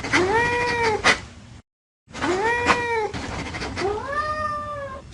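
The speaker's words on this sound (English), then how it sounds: "a momentary vertical displacement of 4 to 6 inches will trigger the vocalizations of the cat" A cat meows repeatedly in loud, close, drawn-out wails, triggered by being lifted and dropped a few inches, with several rising-and-falling calls broken by a short silent gap.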